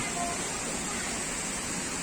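A waterfall rushes in a steady, dense hiss of falling water, even and unbroken throughout, with no voices audible over it.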